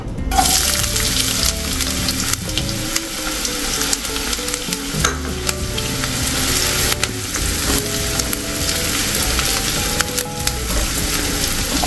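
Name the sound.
onions frying in hot oil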